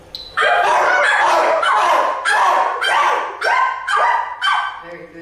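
A group of people imitate a dog barking, voicing a run of about seven loud, close bark-like yelps in a fairly regular rhythm, each a sharp burst with a short tail.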